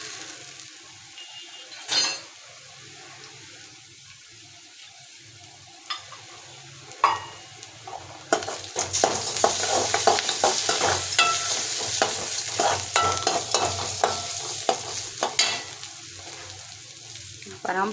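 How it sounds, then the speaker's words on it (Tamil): Ginger garlic paste frying in a pan for egg rice, quiet at first with a few clinks, then a fuller sizzle with stirring scrapes and crackles building in the second half. "இந்த ஸ்டேஜில் நம்ம இஞ்சி பூண்டு கொஞ்சம் போட்டுக்கலாம்."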